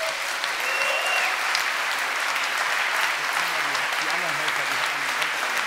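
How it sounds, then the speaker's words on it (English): Sustained applause from a large audience fills a hackathon closing ceremony hall, steady and loud throughout, with a faint voice briefly audible beneath the clapping. "I think we owe them all a big round of applause"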